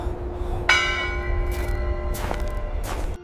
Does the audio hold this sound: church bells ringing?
yes